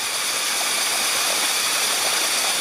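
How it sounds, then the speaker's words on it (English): A waterfall in Chiang Mai, Thailand pours continuously in a broad, steady rushing roar, close and fairly loud, with no voices. "checking out the very top of the waterfall because we haven't looked at that one yet"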